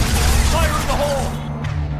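A loud, dense blast of explosion and rapid gunfire in the video game Mass Effect 2, rumbling heavily before fading out, with a shouted voice mixed into the din.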